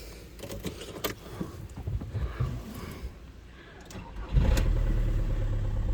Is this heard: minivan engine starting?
yes